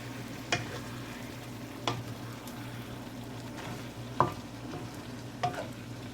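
A spoon stirs soup noodles in a simmering pot, clinking sharply against the side about every second over a low, steady bubbling.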